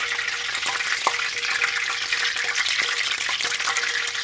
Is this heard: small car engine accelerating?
no